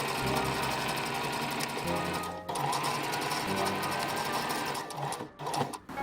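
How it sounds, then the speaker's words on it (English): A serger overlocks the hem of a vintage-style ruffle dress, its motor and needles chattering rapidly and loudly in continuous runs with a couple of brief pauses, close up and without speech. "Serge the hem and sew on buttons."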